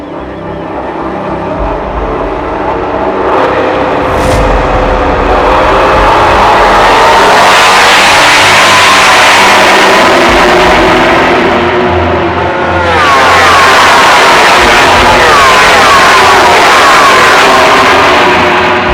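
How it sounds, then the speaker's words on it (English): MotoGP motorcycles roar off the start from the pit wall, a loud sustained howl of high-revving engines that swells and shifts as bikes sweep past, close and overwhelming. "So we're standing on the pit wall for the race start and a few laps afterwards."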